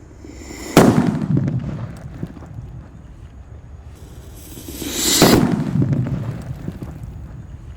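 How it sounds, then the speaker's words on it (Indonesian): A Banaspati level 2 paper firecracker buried in the ground goes off with two loud, sharp blasts about four seconds apart, each followed by a rumbling, wind-buffeted tail outdoors. "selanjutnya yang akan kita nyalakan mercon banaspati level 2"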